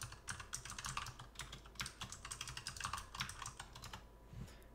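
A password is tapped out on a computer keyboard in a quick, irregular run of soft clicking keystrokes, close up and quiet, with no voices.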